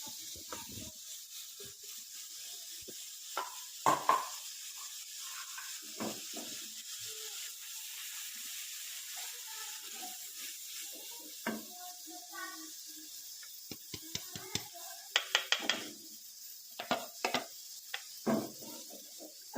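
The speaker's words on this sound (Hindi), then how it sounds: "प्याज का पेस्ट डाल देती हूँ।" Tomato and onion paste frying in a pan for an egg curry, a faint, steady sizzle broken by short clinks and scrapes of stirring, with a quiet voice now and then.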